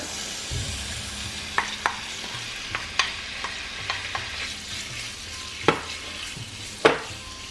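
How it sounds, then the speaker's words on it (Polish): Bacon frying in two spoonfuls of hot oil in a pan, a steady close sizzle with occasional stirring scrapes and light utensil clicks against the pan, no talking. "I tutaj na patelni rozgrzewają mi się dwie łyżki oleju i dodaję boczek."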